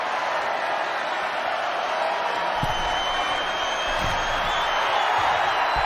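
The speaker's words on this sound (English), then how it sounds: "The sound of this crowd is deafening" A wrestling arena crowd roars loudly and continuously, a dense wash of cheering with occasional thumps and whoops, distant and massed.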